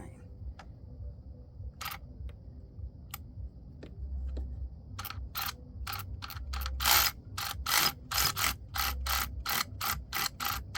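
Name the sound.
ratchet and torque wrench tightening spark plug on Ford F150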